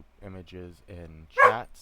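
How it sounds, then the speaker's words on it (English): A dog barks once or twice in the background of a room, sharp and brief near the end, under a person talking. "Sorry about my dog in the background."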